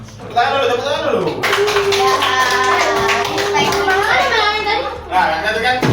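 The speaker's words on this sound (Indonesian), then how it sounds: "Tepuk tangan dulu." Children in a classroom clap together in a short burst while a teacher and kids talk and call out over it, the clapping fading as voices carry on.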